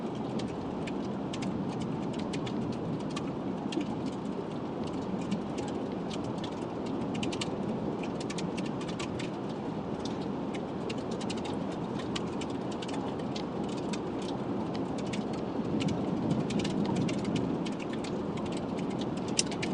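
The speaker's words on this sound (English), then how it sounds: "when you're listening to the rain falling during a storm, the flapping of the flags." Continuous rain-like patter and rustle of flags flapping in the wind at an outdoor convoy rally in Orlando, Florida, with crackling bursts throughout; steady, moderately distant, no speech.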